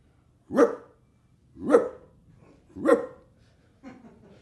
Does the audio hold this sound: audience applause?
no